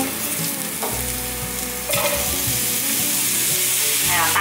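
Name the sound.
stir-frying carrots in a pan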